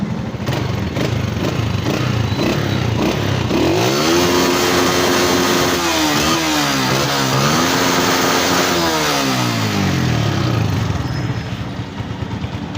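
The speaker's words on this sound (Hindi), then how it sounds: "फ़ाइनल आप लोगों को एक्सीलेटर शो कराता हूँ मैं, एक्सीलेटर पे कैसी आ रही है।" A restored 2017 Honda CG125 motorcycle engine idles, then revs up and down in several rising and falling sweeps before settling back, loud and close.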